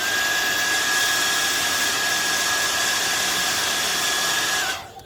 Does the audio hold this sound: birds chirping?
no